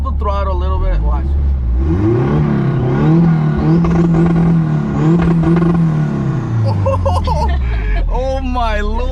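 A tuned hatchback with an open exhaust holds steady on two-step launch control, its engine droning loud and close with a rising, sustained rev for several seconds before settling back; someone talks briefly at the start and again at the end.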